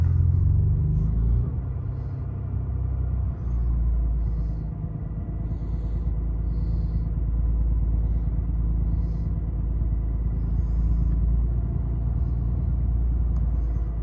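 A BMW S55 engine idles at close range in a steady, low, even rumble that holds for about fourteen seconds, with faint clicks and chirps above it and no talk.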